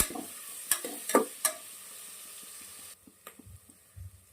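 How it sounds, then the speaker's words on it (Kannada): Green chillies frying with okra in a pan, a brief sizzle with a few clinking stirs that dies down to quieter, sparse pan sounds. "ಮತ್ತೆ ಹಸಿಮೆಣಸಿನಕಾಯಿನ ಹಾಕೊಳ್ಳೋಣ. ಚೆನ್ನಾಗಿ ಫ್ರೈ ಮಾಡ್ಕೊಳ್ಳೋಣ."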